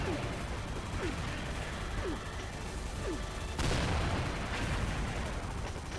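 Rapid gunfire from a pink gun in the XSHOT shooting game, a steady dense burst of repeated shots running throughout, close and loud, briefly intensifying partway through.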